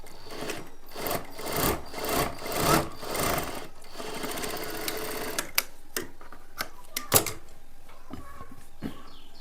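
Close sewing machine stitching blouse fabric, a rapid rhythmic chatter in the first half that eases off, followed by sparse clicks and taps of the needle and fabric handling.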